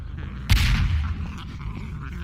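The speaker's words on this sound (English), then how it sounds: "You turn it on, and you can hear some explosions." A single loud boom bursts out in a zombie shooter game set in a hospital, its rumble lingering and decaying over a low, busy game background, with no talk over it.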